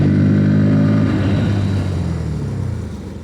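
Bajaj Pulsar N160 and NS160 motorcycles accelerate together toward 60, a loud, steady engine drone with a rising harmonic whine close by, easing slightly near the end.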